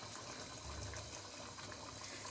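Water pours steadily into a cooking pot to make broth for a chicken and potato curry, a soft, continuous splashing fill with no voices.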